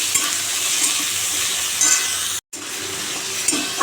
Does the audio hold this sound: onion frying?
yes